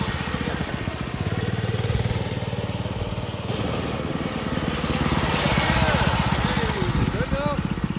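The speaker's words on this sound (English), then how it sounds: "Warm up the engine." A 212cc small engine in a mini Baja buggy idles steadily while warming up, a continuous, low, sputtering rumble close by, while a voice speaks briefly over it.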